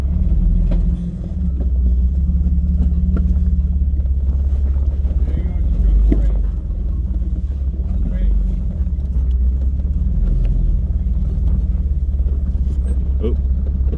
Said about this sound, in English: I'm trying to get my wheel up on the rock.